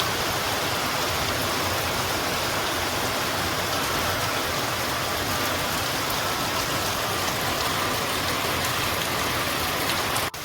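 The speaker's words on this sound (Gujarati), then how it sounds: "તો આટલો વરસાદ પડે છે તો જુઓ" Heavy rain pours down on a cotton farm field, a dense, constant roar of drops that stays loud and even for the whole stretch, with no voices.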